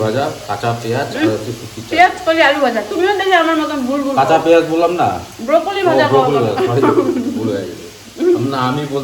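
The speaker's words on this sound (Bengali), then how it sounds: "কাতলা মাছের ভাজা" Fish sizzles and crackles steadily in hot oil, a constant frying hiss running beneath continuous talking.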